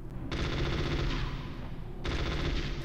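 Sustained automatic gunfire in Metal Gear Solid, fired at ravens, comes as loud dense bursts with a short pause before another burst starts.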